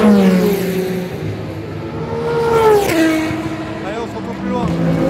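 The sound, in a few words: old Peugeot race car at Le Mans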